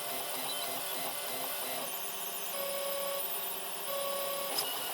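A 3D printer at work, its stepper motors producing a steady whirring hum with brief tonal whines as the head moves, moderately quiet and unbroken for several seconds.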